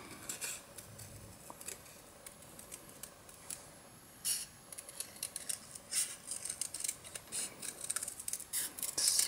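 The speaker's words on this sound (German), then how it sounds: "Einfach mit der Schere ganz grob" Scissors snip roughly through card stock while cutting out a wavy shape for an origami fox card, a series of close, crisp cuts in irregular bursts with no talking.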